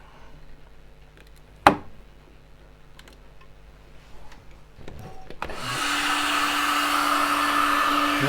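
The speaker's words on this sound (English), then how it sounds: "it needs drying, and I do that with my little hairdryer" Small hair dryer switched on to dry a wet wooden bowl on a lathe, starting after a few seconds of quiet workshop clicks and a sharp tap, then a steady, close whooshing drone.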